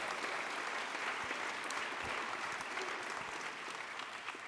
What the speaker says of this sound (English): please give him another big round of applause